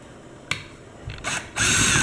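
Screws being backed out of the handle of a Husky 1750 pressure washer wand, heard as a sharp click followed by a few short, close ratcheting and grinding bursts, the last one louder and more sustained.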